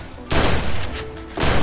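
Dense bursts of rapid gunfire in a mobile shooter game, two loud sustained volleys close up with a short gap between them and no talk.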